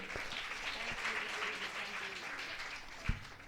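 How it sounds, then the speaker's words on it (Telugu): Children at a vacation Bible school event clap together for two helpers, a sustained patter of applause at moderate distance with faint voices mixed in and one sharper clap near the end. "వీళ్ళిద్దరికీ కూడా ఒకసారి గట్టిగా చప్పట్లు."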